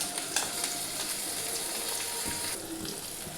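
Chopped tomato drops into onions already fried reddish-brown in a pan, giving a steady, close, fairly loud sizzle and hiss that runs the whole time with no talking.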